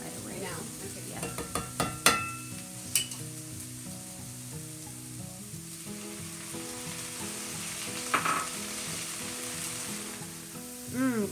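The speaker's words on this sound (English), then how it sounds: "And next we're going to put the bell peppers in. And just saute those for just a little bit." Bell peppers sauté in a pan with a steady sizzle. Scattered clinks and scrapes of utensils against the pan sound over the frying, with a louder stir near the end.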